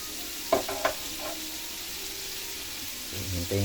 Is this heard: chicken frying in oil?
yes